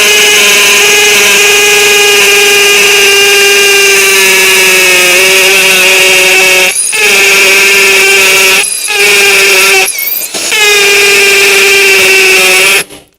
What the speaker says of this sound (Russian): Переключаем на сверление с ударом. Используем подопытный кусок дорожного борта.